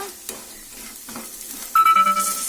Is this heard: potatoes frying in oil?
yes